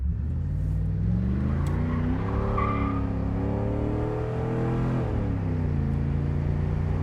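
A 1986 Chevrolet Camaro Z28 with T-tops accelerates hard, its engine note climbing and falling through the gears with a steady tire squeal, close and continuous with no talking.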